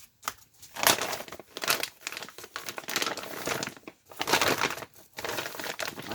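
A woven bulk rice bag being handled and its seam pulled open by hand, loud close crinkling and crunching in irregular bursts with brief pauses between.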